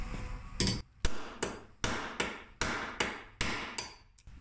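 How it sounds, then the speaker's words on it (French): Nine sharp, loud hammer blows on the cylinder of a round metal cutter ring out at a steady pace, each a bright metallic strike with a short decay, with no voices. "je vais aller frapper assez fort. Donc désolé, ça va faire du bruit."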